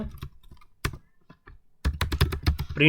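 Close keystrokes on a computer keyboard while entering code details, a few scattered taps followed by a quick, rhythmic burst of typing, crisp and alone.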